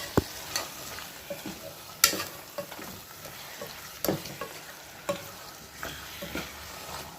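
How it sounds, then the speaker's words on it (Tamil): 600 g of beef is stirred with masala in a hot pan, with a continuous sizzle broken by repeated scraping and clacking strokes of the spoon at an uneven rhythm, close and clear. "அந்த மசாலா கூட பிரட்டி விட்டுக்கலாம்."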